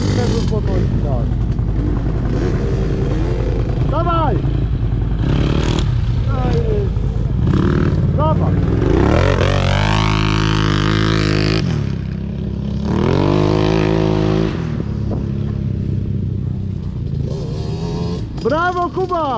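A motorcycle engine during a riding lesson revs and drops repeatedly up close, rising in bursts of acceleration with some clattering, while people talk and call out over it.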